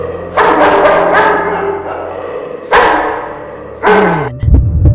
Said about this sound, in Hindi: दूर कहीं कुत्तों के भौंकने की आवाज